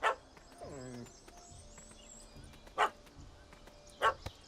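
In The Witcher 3 video game, a dog barks up at a cat in a tree: three sharp, separate barks spaced a second or more apart, with a brief whimpering whine between them.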